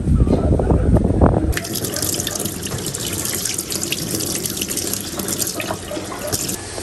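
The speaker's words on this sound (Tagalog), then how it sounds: "Kapag ka po ganitong pahapon ay malakas po ang tubig dito." Water gushes steadily from a tap under strong afternoon pressure, a loud continuous broadband rush with splashing, preceded by a brief moment of lower rumbling noise.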